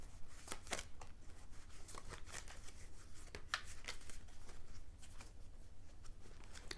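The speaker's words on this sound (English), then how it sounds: "Do a little shuffle that way." A deck of slippery I Ching oracle cards being shuffled by hand, giving a steady run of soft riffling and sliding card noise with sharper flicks scattered through, close and continuous with no talking.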